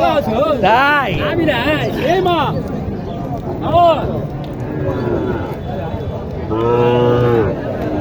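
Sahiwal cows moo loudly several times, long drawn-out lowing calls close by at a cattle market in Naogaon district, Bangladesh, mixed with a crowd of people chattering in the background.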